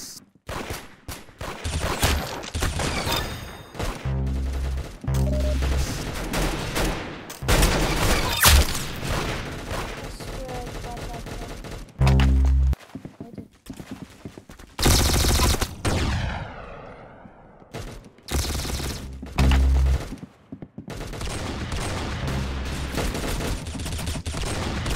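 Video game shooter gunfire, loud and nearly continuous, with rapid automatic bursts, sharp single shots and a few heavier booms packed densely together over about 25 seconds.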